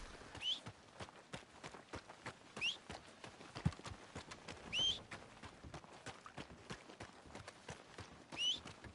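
Hoofbeats of a horse in Red Dead Redemption 2 keep a steady, rhythmic clip-clop for several seconds, near and clear, while bird chirps sound at intervals in the background.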